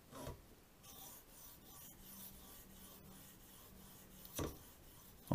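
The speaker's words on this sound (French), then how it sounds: "au niveau du son, on entend tout de suite que c'est une pierre bien moins agressive" A Poltava diamond sharpening stone rubs on a knife blade wetted with water, giving a steady soft rasping scrape for several seconds, fairly quiet, with a louder stroke near the end and no talking.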